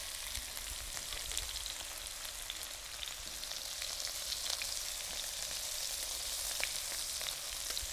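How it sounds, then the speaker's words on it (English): Mushrooms searing in a hot pan give a steady, dense sizzle and hiss that never lets up, loud and close, with no voices over it. "Okay, so now we have a decent sear on the mushroom."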